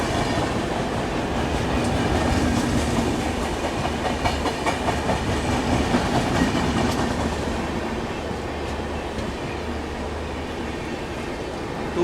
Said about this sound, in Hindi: WAP7 लीड कर रहा है भाई हमारी ट्रेन को